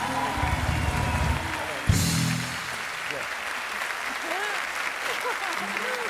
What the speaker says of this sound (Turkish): Şurada bir alkış alalım